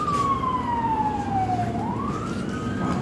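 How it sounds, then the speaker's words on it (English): An emergency vehicle siren on a city street, a loud wailing tone that sweeps slowly downward and then rises again, with steady traffic noise underneath and no talking. "you have to hear the cop siren, or the fire truck, or the ambulance at least a couple times a day around me"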